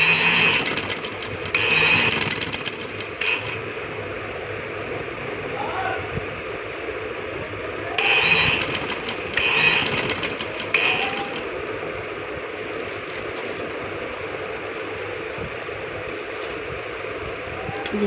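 An electric sewing machine stitches the folded edge of trouser fabric in several whirring bursts of rapid mechanical chatter, separated by pauses, with a continuous hum between runs and occasional quiet talk nearby.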